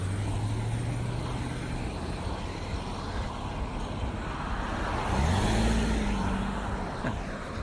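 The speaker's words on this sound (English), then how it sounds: "And suddenly there were cars." Cars drive along a country road near an animal rescue ranch. A steady traffic hum builds into one loud nearby pass with a clear pitch drop around the middle, then fades back to a lighter background roar.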